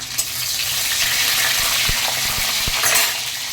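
Nigella seeds and green chillies hit hot mustard oil in a pan, giving a loud, steady crackling sizzle with a few sharp clicks and pops scattered through it, no voices.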